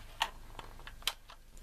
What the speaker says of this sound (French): le clavier propose, je pose les touches, une partie en switch rouge et une partie en switch noir